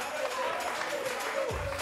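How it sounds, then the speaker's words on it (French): A studio audience claps for a woman receiving a gift on a French-language TV show, a dense and fairly loud burst of applause with voices mixed in throughout. "si on applaudit pour Madame, c'est ça."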